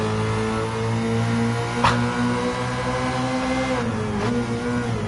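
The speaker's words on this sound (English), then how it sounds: "I didn't expect it to rev this high or just even perform like this" A Mazda CX-30 in Gran Turismo 7 revs high toward a redline past 8,000 RPM, giving a steady, loud engine whine. Its pitch climbs and then dips briefly at the gear shifts.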